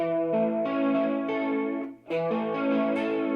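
Sustained electric guitar chords with a shimmering chorus effect, ringing steadily and changing a few times, with a short dip between chords.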